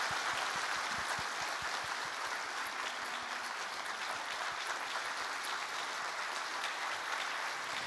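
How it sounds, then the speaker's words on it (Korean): Congregation applause welcoming a new pastor during a Sunday church service, a continuous even roar of clapping from many people, with distinct nearby claps early on. "우리 함께 뜨거운 박수로 환영하도록 하겠습니다."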